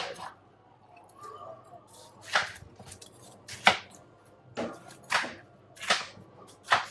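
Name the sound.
chopping watermelon for juicing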